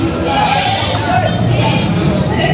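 Goats bleating at the Padre Garcia livestock auction market in Batangas, a constant loud crowd of overlapping animal calls and chatter with people talking throughout.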